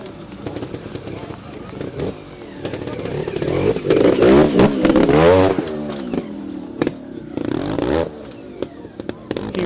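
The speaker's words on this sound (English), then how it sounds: "A few bikes sound a little bit worse for wear, a little bit rich, a little bit of exhaust packing blown out." Trials motorcycles at an outdoor competition rev and crackle in short bursts, sounding slightly rich with blown exhaust packing, loud and close at times, while a commentator talks over them.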